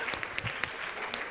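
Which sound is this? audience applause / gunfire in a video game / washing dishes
audience applause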